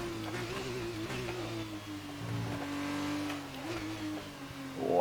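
A Formula 2 race car engine in the F1 2019 video game drones and revs steadily, its pitch wavering and dipping before a brief rising rev at the end, with no talk over it.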